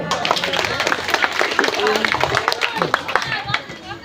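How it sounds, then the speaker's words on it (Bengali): Quiz-show audience applauding a contestant at a coaching-centre quiz competition, with dense, steady clapping from a small crowd sustained for about four seconds and some voices mixed in. "মামুন জন্য একটা জোর হাততালি"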